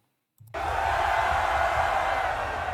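Concert crowd at a live show at Hellfest 2017, a sudden roar that swells in and holds as a loud, broad wall of cheering from a large open-air audience.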